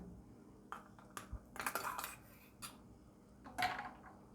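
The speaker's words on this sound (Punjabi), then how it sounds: "ਆਪਾਂ ਇਹਦੇ ਵਿੱਚ ਵੀ ਹੁਣ ਬਰਫ਼ ਦੇ ਪੀਸ ਪਾ ਦਾਂਗੇ ਹੌਲੀ ਹੌਲੀ ਕਰਕੇ ਪਾ ਦਿੰਨੇ ਕਿ ਵਿੱਚ ਛਿੱਟੇ ਨਾ ਪੈਣ" Pieces of ice dropped one by one into a glass of watermelon sharbat, giving a few sparse, light clinks and knocks over about four seconds with a brief clustered rattle in the middle, close and quiet.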